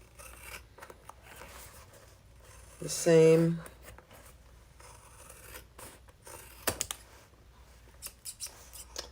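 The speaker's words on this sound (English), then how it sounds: "See how sharp those scissors are?" Sharp scissors slice through leather while trimming a double-sided leather sewing project, one brief crisp cutting burst mid-clip, with quieter handling rustles before and after and someone talking over the work.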